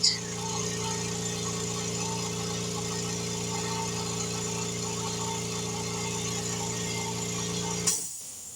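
A 1.8 horsepower air compressor motor with a 20 gallon tank runs steadily and fairly loud with a constant hum, then cuts off near the end.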